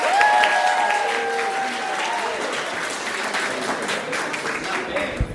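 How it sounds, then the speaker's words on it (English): A comedy club audience claps and cheers as a stand-up comic walks to the stage, steady applause under a host's voice that fades toward the end. "This next comic coming to the stage, I need you to start clapping out for Bernadette Maloney."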